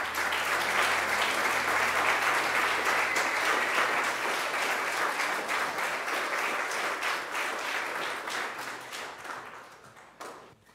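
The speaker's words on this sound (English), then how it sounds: "I would invite you to affirm these young people with your applause." A church congregation claps for young people at a Sunday contemporary worship service, a full and sustained round of applause that holds for several seconds and then gradually thins and fades.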